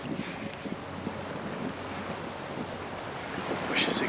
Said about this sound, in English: there's a lot of breaking waves